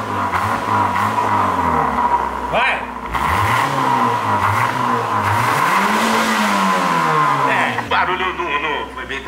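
A Yamaha XJ6 motorcycle fitted with a megaphone exhaust revs loudly up close in repeated rising and falling throttle blips, with voices in the background.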